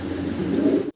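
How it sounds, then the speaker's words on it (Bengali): Andalusian-coloured German Modena pigeons coo in a low, throaty murmur for about a second before it cuts off abruptly. "অ্যান্ডালুজিয়ান কালারের ভিতরে আমরা এক পেয়ার জার্মান মডার্না কবুতর দেখতেছি"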